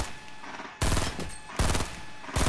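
Gunfire in a shooter video game comes as loud, close bursts of rapid automatic shots, three separate volleys with brief quieter gaps between them.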